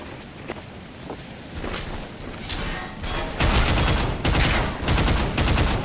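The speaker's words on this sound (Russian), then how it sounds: "А чё он бёрсами стреляет, блин?" Bursts of automatic gunfire from an enemy in the first-person shooter Entropy: Zero - Uprising, with quieter scattered shots and footsteps early on, then loud, dense volleys repeating in clustered bursts close by.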